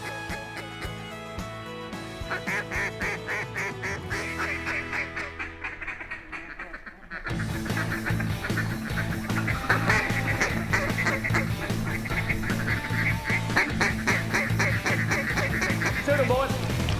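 Loud, dense duck quacking and rapid duck-call blasts during a hunt, a steady chattering rhythm of calls and birds close by with no talk.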